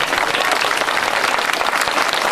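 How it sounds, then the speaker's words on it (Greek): A crowd at the 2001 Agios Titos village festival in Kouroutes, Amari, bursts into dense, steady applause to welcome a musician, loud and continuous throughout. "Να τον υποδεχτείτε όμως με ένα δυνατό χειροκρότημα"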